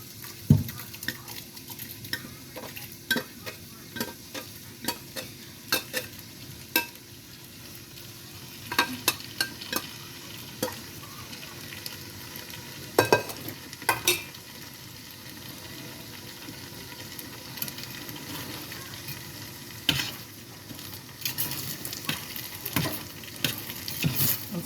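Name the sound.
stirring shrimp and lobster pasta in a pot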